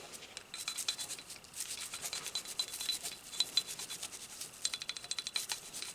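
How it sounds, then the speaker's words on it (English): A toothbrush with a dab of cleaner scrubs the parts of a dusty semi-automatic pistol, giving close, steady rasping strokes in quick bursts with brief pauses, alone and without talk. "you want to get a little cleaner on the tip of your toothbrush and go in there and scrub it"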